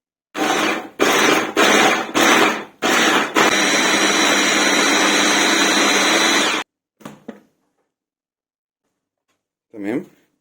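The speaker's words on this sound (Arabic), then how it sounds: "هنجيب الكبة بقى معايا دلوقتي ونبدأ نفرم الخضار الاول" Electric food chopper mincing green and red bell peppers, an onion and garlic cloves: several short loud pulses, then one long continuous grinding run, followed by a voice speaking.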